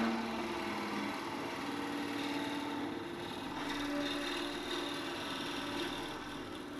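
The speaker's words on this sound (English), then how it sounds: "Lathe running about 450, I think." A wood lathe spins at roughly 450 rpm while a single-piece wooden yoyo is turned, producing a faint, steady motor hum with a slight whine that holds even throughout, no voices.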